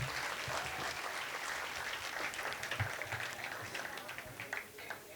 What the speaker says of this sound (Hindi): एक बार चाहूँगा कि इनके लिए आपकी तालियां पहुंचे